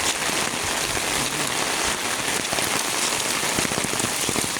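Heavy typhoon rain pouring steadily, a dense continuous hiss of drops drumming on surfaces, loud and close with no break, no voices.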